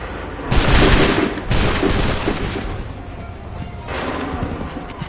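Volleys of blaster gunfire in Star Wars Outlaws come as loud, dense broadband bursts, two close together early on and another toward the end, with rumbling decay between them.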